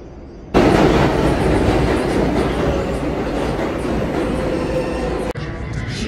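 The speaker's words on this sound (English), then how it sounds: "The freaking train just skipped the station." A train passes through a station without stopping, a loud sustained rumble with clattering wheels that starts abruptly and holds steady for several seconds, close by and with no one speaking.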